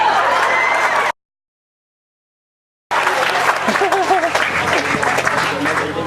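Audience clapping at a cancer research event, a thick burst of hands with voices mixed in, cut by a sudden stretch of total silence before the clapping and crowd noise return.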